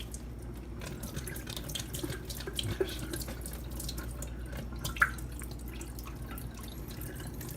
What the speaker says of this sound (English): let's give these a good rinse